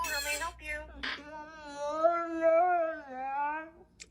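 A dog whimpers and then lets out a long, wavering howl that rises and falls for about three seconds, loud and close, before trailing off.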